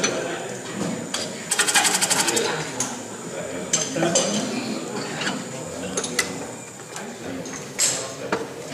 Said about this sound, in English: I like this little lathe.